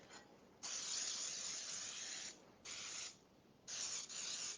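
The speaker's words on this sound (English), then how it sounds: "I like to spray these with Baker's Joy" Three bursts of Baker's Joy baking spray hiss into cake pans, close and steady, each lasting a second or more with short pauses between.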